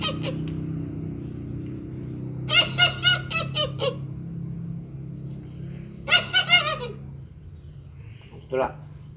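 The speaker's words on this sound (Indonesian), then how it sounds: "Ini suara ayam berkokok ini," Two bursts of rooster crowing, around 2.5 and 6 seconds, rise over a steady low hum, with a short cluck-like call near the end. No one speaks.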